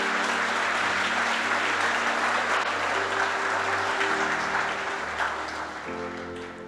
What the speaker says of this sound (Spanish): Fuerte, fuerte ese aplauso para Cristo